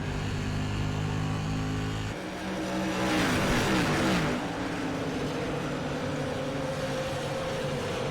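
SK short track race cars power around the Nashville oval, a steady engine drone swelling into a loud, close pass-by of revving cars, then fading back to a distant roar.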